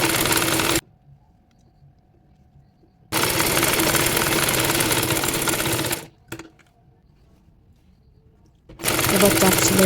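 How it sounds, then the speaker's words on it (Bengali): A sewing machine stitches folded fabric for a baby nighty in three loud bursts of rapid, even whirring, with near-silent pauses between runs. "আর বাকি কাপড়টি মুড়িয়ে সেলাই করে নিচ্ছি।"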